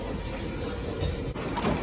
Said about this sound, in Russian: Открывается дверь.